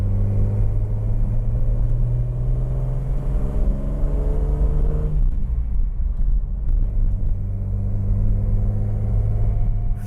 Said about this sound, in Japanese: 重々しい排気音とは裏腹にすごく精密なものが回っている感じです